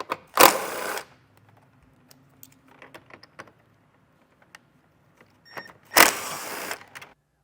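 Two bursts from a power driver backing out T40 Torx screws on a 2024 Jeep Grand Cherokee L, each about half a second of high whirring near the start and end, with light clinks of handling the bit between them.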